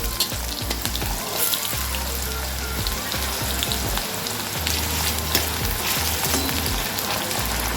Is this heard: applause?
no